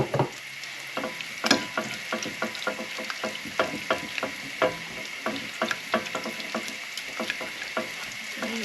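Flour being stirred into liquid in a pan, a steady rhythm of wet scraping strokes over a light sizzle, close up with no talk.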